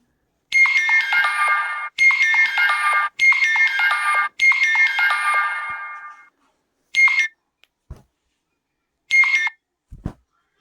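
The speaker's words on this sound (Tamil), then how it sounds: "மொபைல் சைலண்டில் போடாமல் விட்டாச்சு." A mobile phone ringtone plays loud and close: four long repeated bursts of bright melodic tones, then a pause and two shorter chime bursts, with no one speaking.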